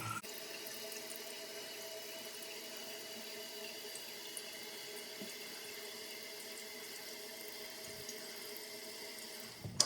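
Steady rushing hiss of water filling a Kohler toilet tank, constant and unbroken for the whole stretch, close by with no voices.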